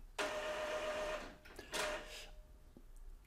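An Epson L3110 inkjet printer runs a head-cleaning cycle, giving a fairly quiet mechanical whirr in two longer surges with a brief click between them and no voices.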